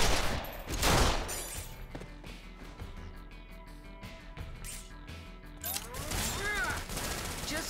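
Gunfire in the video game Resonance of Fate, bursts of rapid shots and mechanical clatter with a swelling burst at the start and more shots near the end, moderately loud, no talk.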